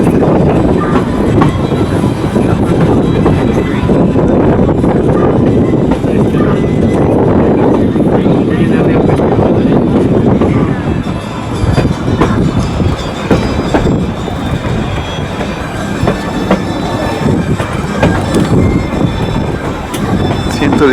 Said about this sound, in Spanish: La locomotora ya está ingresando al puente Zumbay.